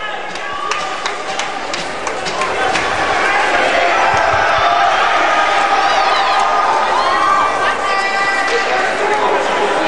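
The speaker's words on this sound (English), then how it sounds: "getting the hometown crowd fired up as he skates by" A hometown crowd at a Steamboat Sailors ice hockey game cheers and roars after a goal, swelling into a sustained loud din over scattered thuds and clatter, with an announcer's voice running through it.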